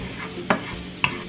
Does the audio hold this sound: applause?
no